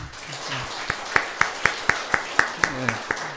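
About ten sharp claps ring out in a slow, evenly spaced rhythm, fairly close, at a church revival meeting, with a few voices murmuring underneath.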